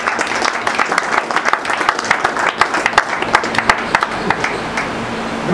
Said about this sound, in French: Je voudrais qu'on l'acclame très fort.